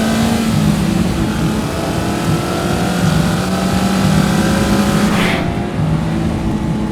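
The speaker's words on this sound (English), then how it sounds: "even though the engine is great and it revs up so nicely" A 2024 Mazda MX-5 engine revving under load, a loud sustained engine drone whose pitch climbs steadily and then drops off near the end, with no voices.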